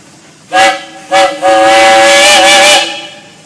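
Three blasts from the steam whistle of a 2390 Baker steam traction engine at a steam engine show: two short toots, then a long sustained one, loud and near with bright harmonic tones.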